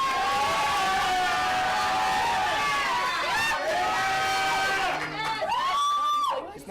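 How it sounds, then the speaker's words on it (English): A studio audience cheers and whoops for a contestant named Sean on a talk show, a loud sustained crowd roar with shouting voices that fades toward the end. "cheer for who you would like to win"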